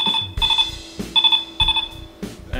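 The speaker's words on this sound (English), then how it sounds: "This can be used as an alarm to wake you up in the morning." Keitaizer toy phone alarm mode gives out rapid beeping electronic trills in short repeated bursts, loud and close, with low thumps between them and no voice.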